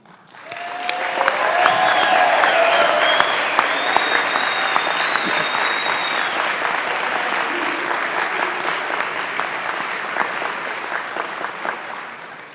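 A large audience at the Wabash College Class of 2021 Ringing In Ceremony claps steadily and enthusiastically, loud and sustained for several seconds before gradually thinning out.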